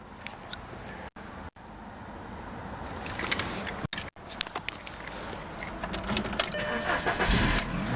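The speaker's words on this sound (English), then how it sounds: "Vehicle starts nicely" A used VW Polo hatchback starts up, with a broken churn of the starter followed by the engine catching and building to a steady, louder run close by.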